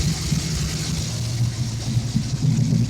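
Car engine idling with a small exhaust collector leak on the passenger side, a steady close rumble with a faint ticking, surging undertone and no talking.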